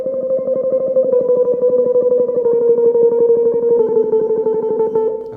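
Rapid tremolo picking on a single guitar string, each note struck sixteen times in an even, fast pulse before moving to the next pitch, played steadily and loudly with an effects-coloured tone and no talking.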